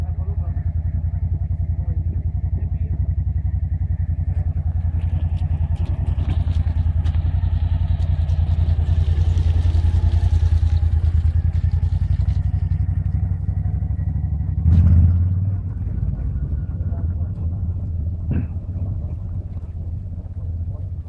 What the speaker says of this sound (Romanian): Avem mă și motoretele noastre.